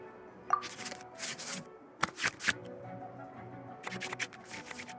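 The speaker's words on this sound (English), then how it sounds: "we can select any number of cards in our hand to shuffle back into the draw pile" Cards shuffled back into the draw pile in the Genius Invokation TCG video game, a few quick papery riffling bursts with short pauses between them, heard over a soft game backdrop.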